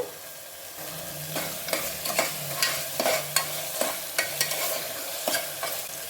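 Ingredients for pudina mint rice fry in hot oil after a spoon of rock salt goes in, giving a close, steady sizzle broken by regular scraping strokes of a spoon stirring the pan.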